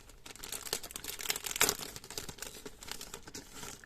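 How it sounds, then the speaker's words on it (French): Crinkly wrapping on a gift package is unwrapped by hand, a close, continuous crumpling and rustling with a sharper tearing crackle partway through, no talk. "il faut que je vous le déballe"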